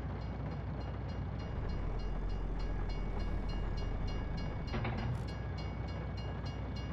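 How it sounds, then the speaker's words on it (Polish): A train rolls past a crossing in Farming Simulator 19, a steady loud rumble with rhythmic clacking of wheels and a brief tonal hint of a horn partway through, with no talking. "Jak widzicie, jedzie pociąg."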